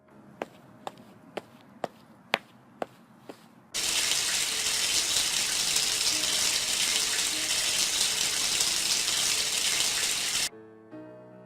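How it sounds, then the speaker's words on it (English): A shower in the Carpe Diem game follows a series of sharp evenly spaced clicks, then gushes in a loud, steady hiss of running water for several seconds before cutting off abruptly, leaving soft background music. "I go to the bathroom to take a nice shower."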